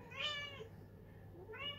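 A pet cat gives two clear meows, one near the start and another near the end, close and fairly soft against a quiet room.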